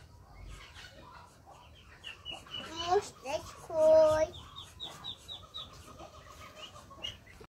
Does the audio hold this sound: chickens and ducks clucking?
yes